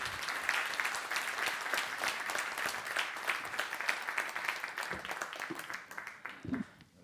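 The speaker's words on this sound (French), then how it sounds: "on l'applaudit" A conference audience at JAD 2021 applauds steadily for several seconds as speaker Philippe Dessertine is welcomed on stage, a dense, even wash of many hands clapping that thins slightly toward the end.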